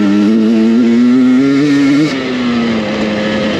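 A 2023 Husqvarna TE300i dirt bike engine revs up loud and close, a steady climbing whine that holds for about two seconds before the pitch drops as the throttle eases and the motor keeps running.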